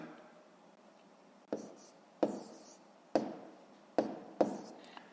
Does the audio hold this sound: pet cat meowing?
no